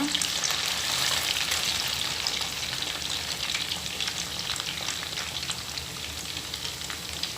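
Idli pieces deep frying in hot oil, a dense steady sizzle and crackle running throughout without a pause, fairly loud and close.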